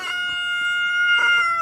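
A rooster crows in a long, sustained, tonal call on a farm, close and fairly loud, with a second crow cutting in near the end over faint background clucking.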